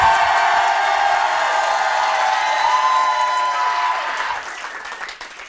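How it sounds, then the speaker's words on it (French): Audience at a live show shouting and applauding together in a dense, loud burst of clapping and cheers, fading out over the last second. "Donc vous criez, vous applaudissez, peu importe, mais il faut que ça fasse un maximum de bruit."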